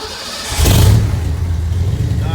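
A Ford Foxbody fitted with a HI-6 CD ignition cranks and fires right up with a loud burst, then settles into a rough, steady idle close to the microphone.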